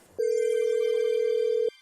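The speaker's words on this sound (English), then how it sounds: "It's ringing now." A telephone rings once, a single long steady electronic tone lasting about a second and a half, clear and close with nothing else heard around it.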